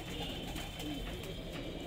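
Soft pigeon cooing against a steady background hum, continuous and low, with no talking.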